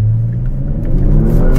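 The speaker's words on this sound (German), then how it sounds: "einmal die Klappe auf und wir hören einen etwas deftigeren, schöneren Klang" A Kia Stinger GT with its exhaust flap open accelerates, a loud, close, deep engine rumble and exhaust note rising steadily without any talk.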